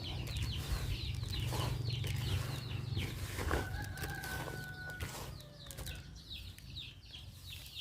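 Chickens cluck and chirp nearby while chick feed is mixed, over a steady low hum, with soft wing flutters and small chick peeps scattered throughout.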